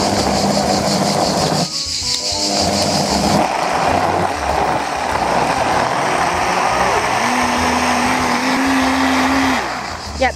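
A blender whirs loudly and close while it purees ingredients for a Marseille fish soup, with the motor pitch shifting and grinding as the load changes, and a brief pause before it runs on.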